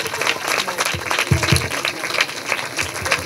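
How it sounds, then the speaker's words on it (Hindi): An audience applauds after a children's Christmas play at a church, a brief burst of steady, crowded clapping with a few louder, nearer claps standing out in the mix. "आपकी तालियों के लिए शुक्रिया"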